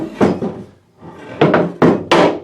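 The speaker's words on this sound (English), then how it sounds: "I'm going to get my seldom used table saw sled down" A seldom-used wooden table saw sled is taken down in a woodworking shop, giving a few close, loud wooden knocks and thuds in quick succession.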